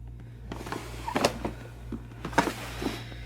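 A bathroom storage drawer holding creams and lotions slides open with a few short scraping and knocking sounds, close and fairly quiet over a steady low hum.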